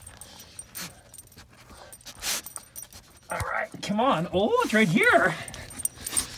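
A wolf pants and whimpers close up, eager for a hot dog, its high wavering whines rising over quick breathy panting, while a person talks and encourages it.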